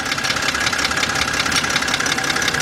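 A 2007 BMW 328xi engine idling with a ticking fault, a close, steady mechanical hum overlaid with rapid, even light ticks.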